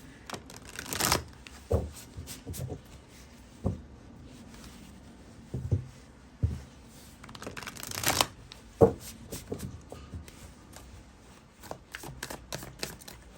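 Tarot cards are shuffled and drawn from several decks close by, with quick riffling bursts and soft slaps and flicks that come in irregular clusters through a quiet room, and no voices.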